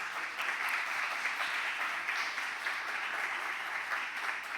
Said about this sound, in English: I just want to give them a round of applause and thanks.